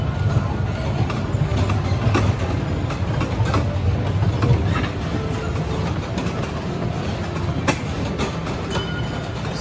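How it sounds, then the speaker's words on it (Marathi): A toy safari train ride inside a mall runs with a continuous rumbling, rattling wheel noise and faint clicks, loud and close, with crowd murmur in the background. "चालू झाला ट्रेन"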